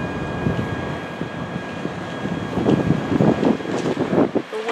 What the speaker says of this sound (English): The wind is blowing right now, so getting kind of cold.